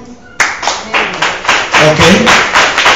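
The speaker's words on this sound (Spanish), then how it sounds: "den un aplauso al Señor" Congregation clapping for the Lord during a church service: a sudden burst of hand claps settling into a steady, rhythmic beat of several loud, close claps per second, with voices faintly underneath.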